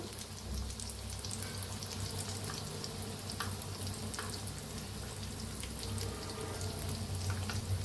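Bread potato pakoras deep-frying in hot oil, a dense continuous crackling sizzle with scattered sharp pops, steady and close throughout.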